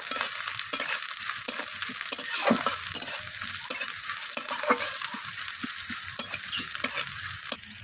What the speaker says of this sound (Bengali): সেই পেঁয়াজটাকে আমি তেলের মধ্যে দিয়ে দিলাম